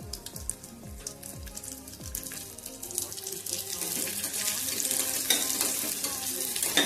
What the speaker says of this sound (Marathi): ह्याला छान असं तळून घेऊ